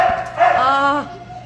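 Small puppy gives a short high yip followed by a drawn-out whiny bark indoors, close and fairly loud, with a person cooing nearby.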